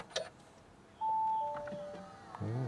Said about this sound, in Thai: นี่คือเสียงสตาร์ท